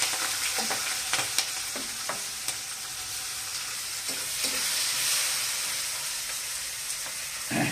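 Onion fries in a pan for a Bengali-style rohu fish curry, with a steady close sizzle and scattered knocks and scrapes from stirring.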